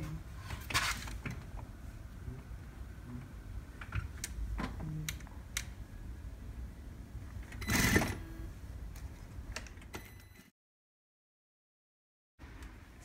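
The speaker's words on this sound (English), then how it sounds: "I'm gonna go straight ahead and sew it." A sewing machine stitches a contrasting T-shirt panel in a run of close, fairly quiet mechanical ticking and whirring with short pauses, then silence near the end.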